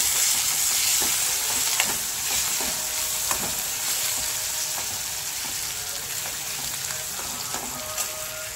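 Tomato frying with crushed chilli paste in a pan, a dense, steady close sizzle with light stirring scrapes running throughout.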